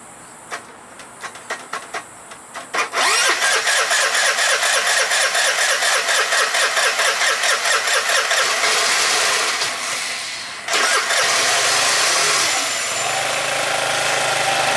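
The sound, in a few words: scooter engine cranking and trying to start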